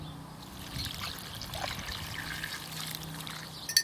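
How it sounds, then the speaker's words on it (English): Water trickles and pours into a small model river channel, a soft continuous dribbling stream heard close up with no talk, growing a little louder near the end. "I'm going to pour some water into our river channel here."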